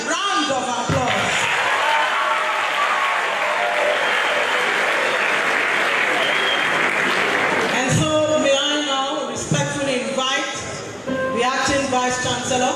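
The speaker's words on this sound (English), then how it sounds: "Let's give Professor OTOIGHILE another round of applause." A lecture audience claps steadily for a professor, a loud continuous round of applause that thins toward the end, when a voice speaks over the tail.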